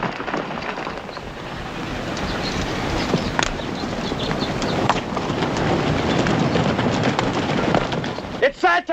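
Horses gallop in a Wild West film scene, a dense rumble of hooves with wind and commotion running steadily throughout, while voices shout over the action.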